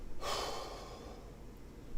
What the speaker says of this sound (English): throw the breath out through the mouth in a double exhalation with a short and long sound